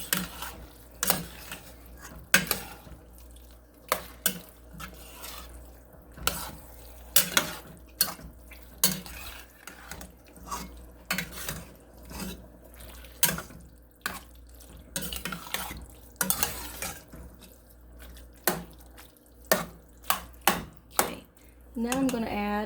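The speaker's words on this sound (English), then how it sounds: "Now I'm going to stir that in." Deer chili is stirred in a pot with a utensil, making repeated scraping clanks against the metal at an irregular pace over a steady low hum.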